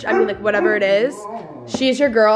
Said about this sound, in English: sorry that my dog will not stop.